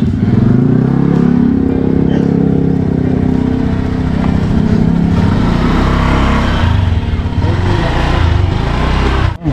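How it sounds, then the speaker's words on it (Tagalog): A motorcycle engine, a 2021 model, runs on a test start: a loud, close, steady idle with a thick low rumble, faint voices underneath. "Testing ni Bayaw para matesting kung maganda ang makina."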